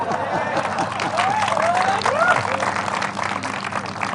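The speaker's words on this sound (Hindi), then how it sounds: "तालियां" A crowd at an India–Pakistan cricket celebration gives sustained, dense applause that stays steady throughout, with a voice calling out over the clapping.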